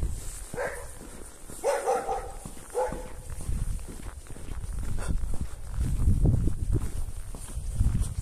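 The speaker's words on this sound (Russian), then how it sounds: "О, щенок там у них живет," A puppy barking in a village yard in winter, a few short yapping bursts early on at a distance, followed by crunching footsteps and outdoor rumble.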